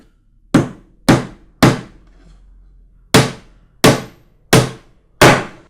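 Wire-headed inch nails are hammered into the wooden gabled roof of a National beehive. The strikes are loud and close: three quick blows, a short pause, then four more in an even rhythm.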